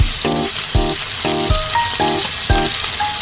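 Green chillies frying in a pan while cooking gongura mutton, giving steady close sizzling with regular stirring scrapes every half second or so, and no talk.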